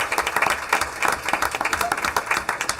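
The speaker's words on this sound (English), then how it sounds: "Let's give another big round of applause to our students in the chess club." An audience claps steadily for students from a school chess club at a board meeting, a dense sustained round of applause with no voices over it.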